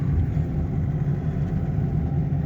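A BMW E46 320d diesel engine runs steadily, a low, even rumble that is close and constant throughout, with no voices.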